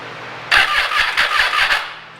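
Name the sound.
Triumph Tiger 800XC motorcycle engine starting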